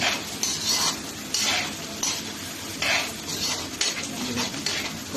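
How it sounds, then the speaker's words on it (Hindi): Onions frying in a pan on the way to golden brown, heard as a steady sizzle broken by repeated stirring scrapes and clinks of utensil against the pan, fairly close, with no talk. "इसको हमने थोड़ा अच्छे से गोल्डन ब्राउन करना है, ताकि जो कच्चापन है प्याज का वो खत्म हो जाए बिल्कुल।"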